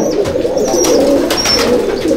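Royal Teddy pigeons cooing steadily in a loft, a low continuous rolling murmur from several birds at close range, with faint higher chirps rising briefly above it.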